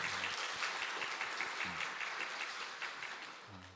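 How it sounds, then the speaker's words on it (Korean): A Sunday morning church congregation applauds in encouragement, an even patter of many hands clapping at moderate distance that thins out slightly toward the close. "우리 모두가 힘내라고 박수로서 한번 격려할까요?"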